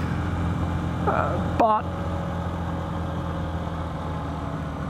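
Steady engine drone of a 125cc motorcycle while riding, low and constant, with someone speaking briefly over it and a short clicking rattle midway.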